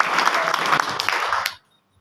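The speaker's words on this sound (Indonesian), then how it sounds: "tepuk tangan dong untuk" Audience applause in a church, a dense wash of clapping from a crowd lasting about a second and a half before cutting off abruptly into silence.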